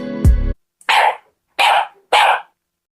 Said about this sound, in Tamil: இவர்தான் நம்ம செல்ல நண்பர் நாய்க்குட்டி. நாய் என்ன சத்தம் போடும்?